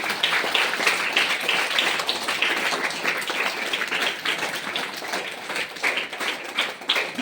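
A meditation group claps for Brahmarshi Patriji, dense continuous applause from many hands at moderate distance, steady for several seconds with slight swells, and no talking over it.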